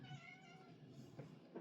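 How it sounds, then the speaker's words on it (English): A cat gives a single drawn-out meow that is faint and distant. It stands alone against a quiet background. "There's a cat."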